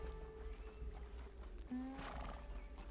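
Horse neighing in the video game Red Dead Redemption 2, a Dutch warmblood: a brief whinny over a low game ambience with faint hoof clops, fairly quiet and without speech.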